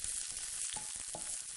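Tofu pieces browning in a pan for a Thai green tofu dish made for a baby, giving a soft, steady, even hiss of frying with a few faint stirring touches, heard close up and with no speech.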